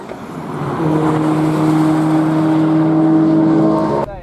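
A road car on a race circuit, driven a little faster than normal road pace, its engine note rising and holding a steady loud drone close by before cutting off abruptly near the end.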